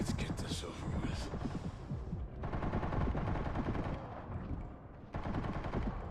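Rapid SMG fire in the Resident Evil Requiem game, dense close bursts running nearly the whole stretch with a short gap midway and another near the end, mixed with game effects under a faint voice.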